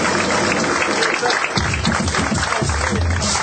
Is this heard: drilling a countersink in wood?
no